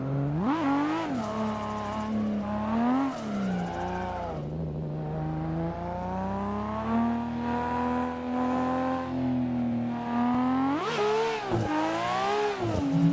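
A race car in Assetto Corsa, driven on a wheel with clutch kicks, revs hard under throttle, its engine note rising and falling in sharp sweeps with sustained high-rpm wailing, loud and close with no talking.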